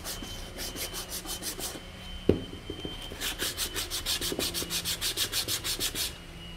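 Hand sanding rounds over the wood of a pencil box craft kit in close, quiet rhythmic strokes, with a steady run of short rasping rubs. A brief knock interrupts the strokes midway before the sanding resumes.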